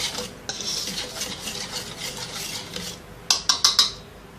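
Dry pizza-cone dough ingredients (flour, sugar, yeast, milk powder and salt) are stirred together in a bowl with close, repeated scraping and rubbing strokes, followed by a quick run of four sharp utensil clinks at the end.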